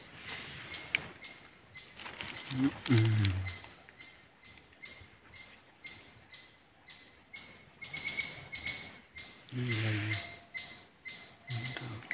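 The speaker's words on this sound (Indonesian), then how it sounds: "Sepertinya itu makin dekat burungnya ke sini." A bird calls repeatedly from the forest, low hooting notes rising now and then over a steady background of chirping insects at night.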